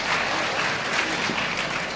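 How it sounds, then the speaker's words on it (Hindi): An audience applauds during a religious sermon, a brief, dense and even wash of clapping with no talk over it. "बहुएं ताली तो बजा दो"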